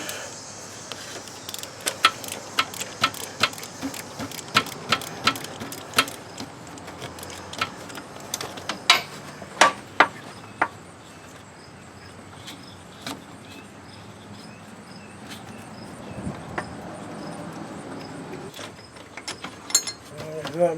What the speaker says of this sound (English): I'll get this other bolt off.